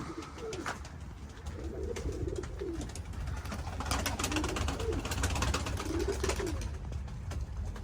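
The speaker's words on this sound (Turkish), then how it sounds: "Kuşlar geliyor." Pigeons cooing in low, soft repeated phrases over steady ambient outdoor noise, with faint flutters and rustling throughout.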